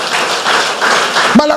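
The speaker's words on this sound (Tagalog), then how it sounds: "Palakpakan natin ang Panginoon" A church congregation claps steadily, a dense mass of many hands at moderate loudness, with a short voice breaking in at the end.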